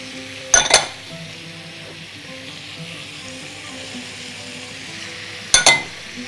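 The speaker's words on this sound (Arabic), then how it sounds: "هجيب هنا الجزر كله بيتشوح مع بعض، وهنزل بالفلفل الالوان" Carrots and bell peppers sautéing in a pan give a steady, gentle sizzle, broken near the start and again toward the end by two sharp clinks of a utensil against the pan.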